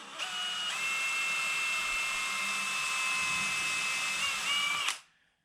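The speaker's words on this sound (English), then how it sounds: "I'm going to drill me a hole through this shim that you're seeing right here and through the door frame." A power drill bores through a shim and an exterior door frame, whining steadily at high speed for about five seconds, then stopping abruptly; no talking.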